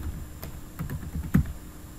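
Close, soft keystrokes on a computer keyboard as a Java compile command is typed, about half a dozen taps in an uneven rhythm over a low background hum, with one firmer press near the end.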